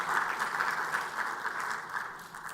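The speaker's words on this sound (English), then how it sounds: "Can you clap for yourself, guys, for having made it today?" An audience at the official launch of a cybersecurity community for Africa gives steady, sustained applause that fills the room, dense and even throughout with no voices over it.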